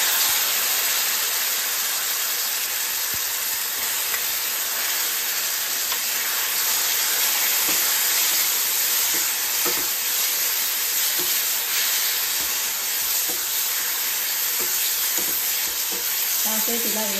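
Gongura chutney with onion, curry leaves and chilies sizzles and fries steadily in a pan, a constant loud hiss with occasional stirring scrapes throughout.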